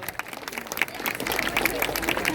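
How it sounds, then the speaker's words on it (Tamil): An audience at a book festival talk in Theni claps together, giving a dense, steady wash of applause that swells and holds for a couple of seconds close by. "பிள்ளைகள் அழைச்சிட்டு வந்த பெற்றோர்கள் அத்தனை பேருக்குமே ஒரு பலத்த கைதட்டல் நம்ம சார்பா கொடுங்க எல்லாரும்"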